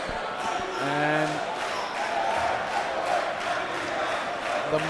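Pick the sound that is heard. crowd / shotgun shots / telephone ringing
crowd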